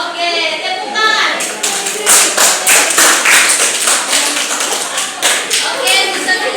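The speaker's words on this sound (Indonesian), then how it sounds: "Oke, tepuk tangan." A class audience claps in a steady rhythm, sharp repeated hand claps filling the room with voices mixed in underneath.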